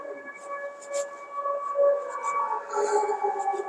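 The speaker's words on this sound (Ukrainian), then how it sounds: "ви знаєте, що в місті Одесі повітряна тривога. Зараз." Civil defense air raid siren sounding across a street in Odesa, a steady wailing tone that rises and swells over several seconds, heard at a distance through the open city air with faint street noise beneath.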